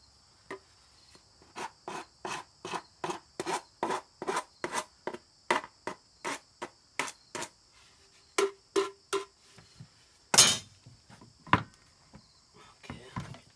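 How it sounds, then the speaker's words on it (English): A whisk broom sweeps wooden porch boards in a steady run of about twenty quick, close brushing strokes, with one sharper scrape near the end and no talking. "Whisk broom."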